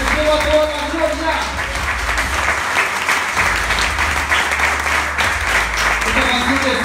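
Loud, steady applause from a large church congregation fills the whole stretch, with a musical drone and some voices mixed underneath, at a live church anniversary service.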